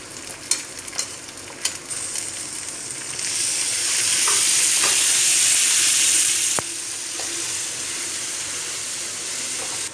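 Tomatoes go into golden brown onions frying in a pan: a few stirring clicks, then a loud burst of hissing sizzle that settles into a steady, slightly quieter fry, with no talking.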